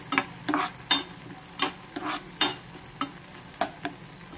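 Dry fruits and pumpkin seeds stirred while frying in a pan, with a string of sharp, close scraping and rattling strokes against the pan's surface over soft sizzling, no voices.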